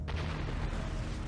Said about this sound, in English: Shoot the cannon, of course.